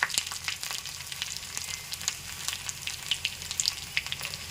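Chana dal fries in hot oil in a pan as a tempering for a cucumber roti chutney, giving a steady, close crackling sizzle studded with small sharp pops, with no voices.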